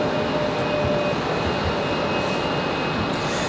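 An Icelandair airliner touches down at Raleigh-Durham airport, heard as a loud, steady roar of jet engines that holds unbroken and close throughout.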